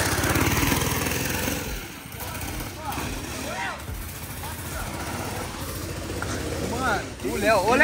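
An engine on a trike revs and accelerates outdoors in stormy weather, loud and rough, while voices talk and exclaim over it.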